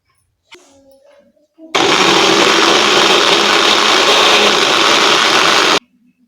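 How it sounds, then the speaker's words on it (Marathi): A kitchen blender grinds cooked tomatoes for soup, a loud, steady roaring whir lasting about four seconds before stopping abruptly, preceded by brief talk. "त्याच्यामध्ये हे सर्व टोमॅटो काढून बारीक करून घेणार आहे"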